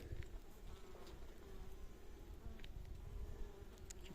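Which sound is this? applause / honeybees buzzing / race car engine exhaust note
honeybees buzzing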